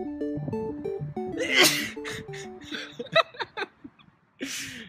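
A loud, close sneeze bursts out over soft background music, followed by a few short breathy sounds and a second sneeze-like burst near the end.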